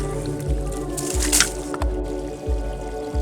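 A pond filter is lifted out of the water, giving wet squishing, sloshing and dripping sounds close by, with repeated low thumps and a steady mechanical hum underneath.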